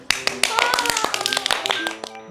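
A small group claps to celebrate a team's win in the Double Eleven sales, a quick run of sharp, close hand claps with uneven rhythm, mixed with voices speaking and a tonal sound over it.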